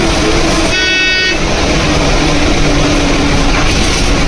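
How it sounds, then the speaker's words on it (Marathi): A vehicle horn on a narrow road on the way to the Ajanta caves sounds in one sustained toot, loud over the continuous roar of the engine and road noise. "त्यामुळे हॉर्न कंटिन्यू वाजवावी लागत आहे"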